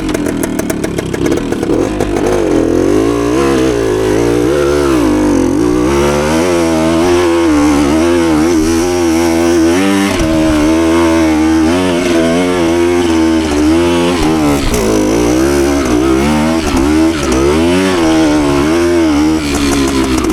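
A 52-year-old 1970s Suzuki TS185 trail motorcycle with a kickstarted engine, revving high and shifting through gears while riding trails. Its buzzy two-stroke note rises and falls steadily and loudly throughout, with no talking.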